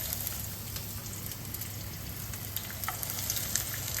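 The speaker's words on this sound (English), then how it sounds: "you want to fry your onions until they are golden" Onions and minced garlic frying in a pan until golden, a soft, steady sizzle with faint crackles and pops throughout.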